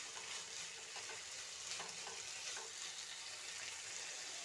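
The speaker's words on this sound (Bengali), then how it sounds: "সবজিটা প্রায় রান্না হয়ে এসেছে। সব সবজি ভালোভাবেই সেদ্ধ হয়ে গেছে।" Winter vegetables cook in a pan with a soft, continuous sizzle and a few faint stirring scrapes, close and quiet.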